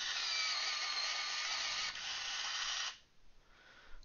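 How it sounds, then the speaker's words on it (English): An electric pencil sharpener grinds a coloured pencil in a steady, high-pitched whirring buzz for about three seconds, then cuts off, leaving faint handling noise. "My electric sharpener should not have done that."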